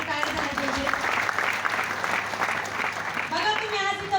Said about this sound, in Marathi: खरंच एकदा जोरदार टाळ्या झाल्या पाहिजे.